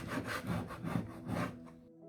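A scraper rasps across wooden furniture stripped with citrus stripper, lifting old finish in four or five close, rhythmic back-and-forth strokes that stop near the end.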